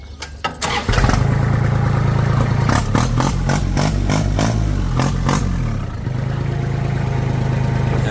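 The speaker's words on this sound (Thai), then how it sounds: "มาฟังเสียงเครื่องยนต์ อันนี้จะเป็นท่อดังๆหน่อยนะครับ" A 2009 Kubota L3408 tractor's diesel engine with a loud exhaust fires up with a clattering start, then runs loud and steady with a deep, throbbing exhaust note close by.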